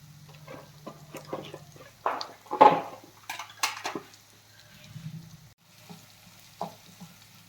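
Butter sizzles in a pan for shahi matar paneer, with quiet intermittent crackles and pops over a low background hum, including a couple of brighter bursts near the middle.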